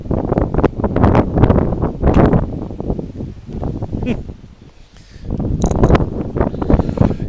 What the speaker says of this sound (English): the wind blows over the camera